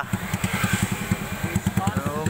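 A motorcycle fitted with a KOU Super open exhaust pipe runs close and loud, its engine firing in a fast, even train of deep throbbing pulses.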